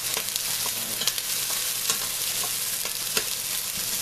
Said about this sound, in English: So I put my onions in there and kind of stir fry it